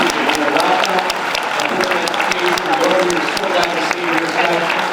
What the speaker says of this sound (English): can we give all of ourselves a big round of applause